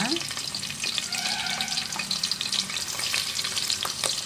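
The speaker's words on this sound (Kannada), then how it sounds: "ಒಂದು ಈರುಳ್ಳಿ ಬ್ರೌನ್ ಕಲರ್ ಬರುವವರೆಗೂ ಫ್ರೈ ಮಾಡ್ಕೊಳ್ಳೋಣ" Onion frying with cinnamon and cloves in a pan, a steady close sizzle broken by frequent quick spatula scrapes and stirring clicks.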